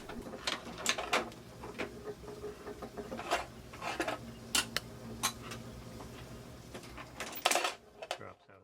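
A letterpress typecasting machine working in a print shop, giving off a run of sharp metallic ticks and clacks over a steady low mechanical hum, with a louder clatter near the end as a cast line drops out.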